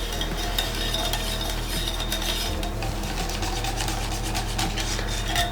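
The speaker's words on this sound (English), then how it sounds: "give a final whisk" Pancake batter for a Finnish oven pancake is given a final whisk in a bowl, a steady scraping, rasping stir that runs continuously at close range.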